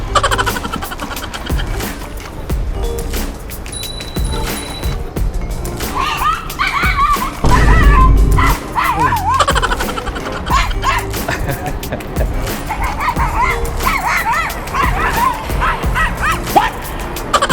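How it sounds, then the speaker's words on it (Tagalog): A dog barks and yips repeatedly in short bursts amid outdoor street noise in Singapore, fairly close, with some whimpering sounds between barks. "Tumatahoy yung aso na yun kapag may nakikita siyang ibang aso."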